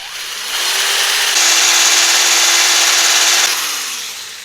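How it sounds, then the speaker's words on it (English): An electric drill bores into the wooden handle stuck in a Swedish axe head, its motor winding up to a loud, steady high-pitched whine for about three seconds before spinning down, with no talk over it. "I'll drill it."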